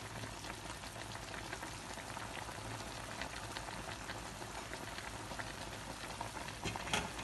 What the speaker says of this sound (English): I will allow the fish to boil for some minutes